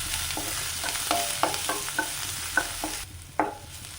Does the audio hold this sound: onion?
yes